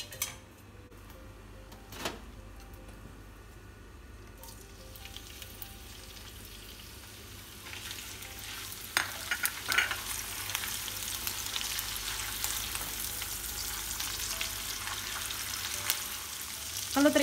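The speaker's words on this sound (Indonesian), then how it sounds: "Goreng, panaskan wajan, beri minyak goreng." Small anchovies frying in reused oil in a wok, a steady sizzling crackle that grows louder and busier partway through, with an occasional clink of utensils.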